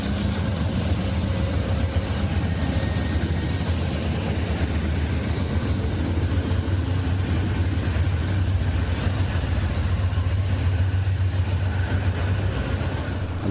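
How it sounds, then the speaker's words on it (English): A train pulls away from a station platform, a sustained low rumble of engines and rolling stock holding at steady loudness, with faint higher hiss and rattle above. "The Boston section of the train has now departed."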